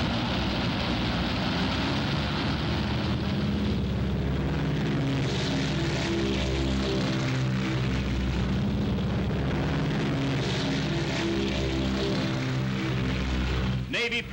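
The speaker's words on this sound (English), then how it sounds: "Navy planes roared from the decks of our carriers" Navy propeller planes roar off aircraft carrier decks during the 1942 Battle of Midway, a continuous heavy droning engine rumble with a pulsing low throb, loud and unbroken throughout.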